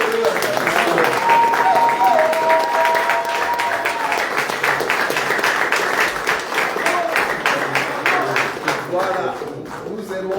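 A church congregation applauding together, dense sustained clapping from a large crowd filling the room, with voices and a sung tone rising over it early on.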